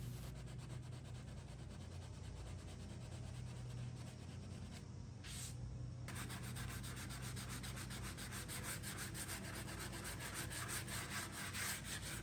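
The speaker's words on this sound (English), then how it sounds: "I like to use my hand sanding blocks just to kind of get off the remaining of the finish" Steady, continuous scratchy rubbing of hand sanding blocks on a wood veneer surface, close up and unbroken, with no voices.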